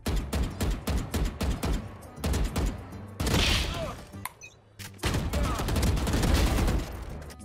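Rapid bursts of video-game gunfire, repeated volleys of shots in quick rhythm with brief pauses and an explosive boom midway.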